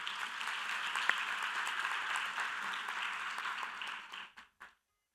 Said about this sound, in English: Can we give a round of applause for all of our alumni?